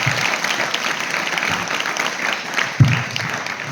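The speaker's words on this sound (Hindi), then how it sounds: "सबसे पहले कुंभकर्ण जी के लिए जोरदार तालियां बजा दीजिए।" Enthusiastic audience applause at a de-addiction campaign gathering, continuous crowd clapping with an even texture and one brief knock near the end.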